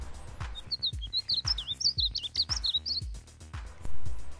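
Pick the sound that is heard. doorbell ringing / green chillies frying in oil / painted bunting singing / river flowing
painted bunting singing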